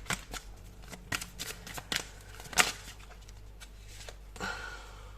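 A deck of oracle cards is shuffled and drawn during a tarot-style reading, a few crisp riffling flicks and slides heard up close and fairly soft, with no talk over them.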